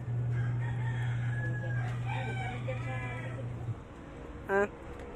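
A rooster crows loudly nearby while hens cluck, over a steady low hum, followed by a brief sharp call at the end.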